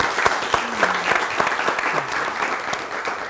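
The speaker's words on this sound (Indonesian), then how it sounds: "tepuk tangan buat kita semua" A TV studio audience applauds, with many hands clapping in a brisk, busy patter that stays fairly loud and even across the few seconds.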